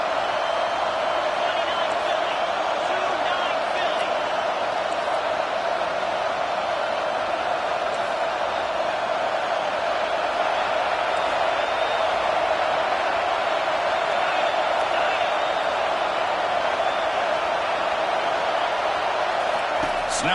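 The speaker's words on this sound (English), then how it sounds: "And the crowd coming to life here, trying to help this defense down in the red zone." Steady roar of a stadium crowd in an NCAA 25 college football video game, a dense continuous wash of noise holding at an even level throughout with no distinct peaks.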